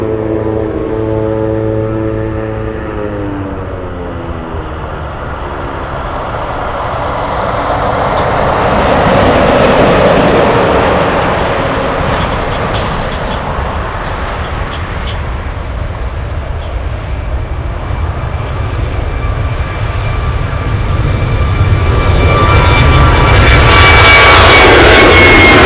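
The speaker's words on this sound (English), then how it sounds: "Northern Air Cargo, a 737, racing down the runway" A Northern Air Cargo Boeing 737 races down the runway on takeoff, its jet engines roaring steadily and swelling louder as it accelerates into the distance.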